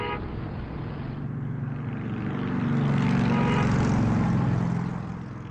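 A run of car horns plays as a jingle opening the closing segment of an options-trading podcast, sounding as a steady, fairly loud horn blare with a swelling engine-like drone that peaks midway and continues throughout, with no talking.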